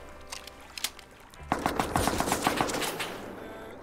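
Automatic AK rifle fire in the survival game Rust: a quiet lead-in, then a rapid burst of shots with sharp, evenly spaced cracks, loud and close, with no talking.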